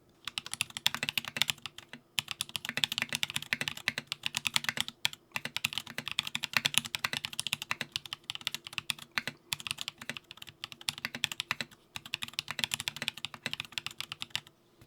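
Steady, fast typing on a Smith & Rune Iron 165 custom mechanical keyboard, a dense stream of muted clacks with a few brief pauses, recorded up close.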